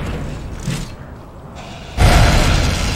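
A grenade blast in the GameCube game Metal Arms: Glitch in the System, a sudden loud booming explosion with a broad low rumble that cuts in and sustains after a quieter stretch of game noise.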